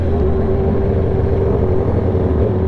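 Kawasaki ZX10R sport motorcycle being ridden on a Sunday morning group ride, its engine a loud, steady, close drone with a constant tone and rushing wind throughout.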